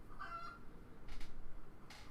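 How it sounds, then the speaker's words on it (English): A chicken squawking outdoors in a few loud, harsh honking bursts with gaps between them, heard faintly from inside over a quiet room with no talking. "there's a chicken like having like a fucking shit fit outside right now"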